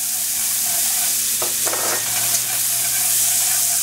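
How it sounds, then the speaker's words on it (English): Finely diced onion sizzling and frying in a hot pan, a constant loud hiss with brief stirring scrapes in the middle, no voices. "And we got some sizzle."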